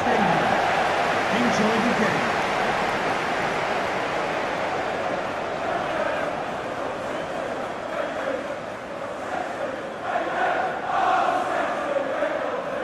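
Stadium crowd in the FIFA 19 video game at a Manchester City vs. Chelsea Community Shield match, a steady, loud roar of the simulated crowd filling the whole stretch, with commentary voices faintly over it.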